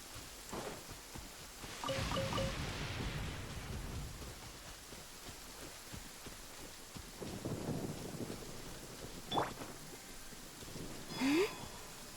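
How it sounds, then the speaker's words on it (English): Rain patters steadily in a Genshin Impact game scene, with soft rolls of thunder rising and fading and a few brief chime-like effects, fairly faint overall. "I don't think it's supposed to be raining and thundering like this, but it is."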